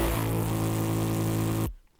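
A dense resampled bass from a glitch-style electronic track drones loud and steady with a buzzy harmonic tone, then cuts off abruptly into near silence.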